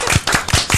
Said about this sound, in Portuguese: sou eu sozinho batendo palmas aqui